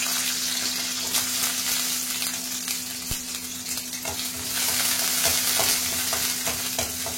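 Onions sautéing in hot oil in a pan, left over from frying dried red chillies, for a mint and coriander chutney; a steady close sizzle and crackle runs throughout with occasional stirring scrapes and no talk.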